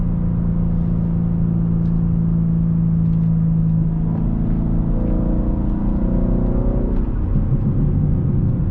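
A BMW G80 M3 pulls hard along winding backroads, its engine rumbling and rising in pitch as it accelerates through the turns. Heard close from inside the cabin, with no talking.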